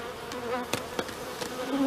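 Bees buzzing at a bee farm, a dense steady hum of many insects with a few louder passes close by, continuous and moderately loud, with no talk.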